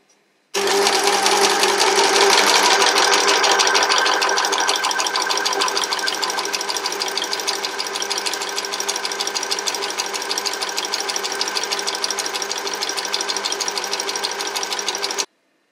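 A Janome 210D overlock machine sewing a seam, a fast, loud, even mechanical whir that starts abruptly after a brief silence and runs steadily for about fifteen seconds before cutting off.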